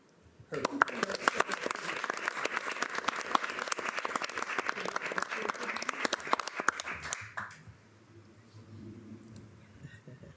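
Audience at a city council meeting breaks into loud, sustained applause and clapping for several seconds, then fades to quiet murmuring and soft talk.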